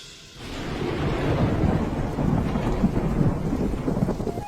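Rain pours steadily on a river during a rainy-season boat trip, with rolling thunder rumbling beneath it after a quieter opening moment; a dense, continuous wash of rainfall dominates, no voices.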